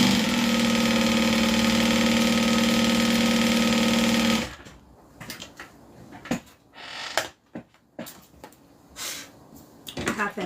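A sewing machine runs steadily and loudly for about four seconds as it stitches a drawstring dust bag, then stops, leaving scattered handling clicks and rustles.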